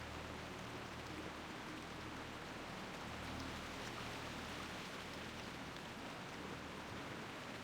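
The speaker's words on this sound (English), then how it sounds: "Oh, the rain's starting." Steady heavy rain falling across the Feralas zone in World of Warcraft, a continuous even hiss of drops filling the scene at low level with no pauses or voices.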